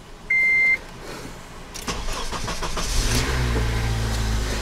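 A 2014 car at a dealership, after a jump start on a bad battery, cranks and catches, then settles into a steady idle. A short horn-like beep sounds first, and the engine builds to a full running tone.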